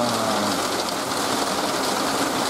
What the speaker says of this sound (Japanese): 雨もですね、かなり今強く降っております。